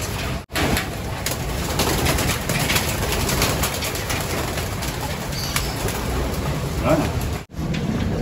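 Racing pigeon hens let out of a backyard loft in the morning, a steady rush of wing flapping and fluttering with some cooing, sustained and fairly loud, with voices talking nearby.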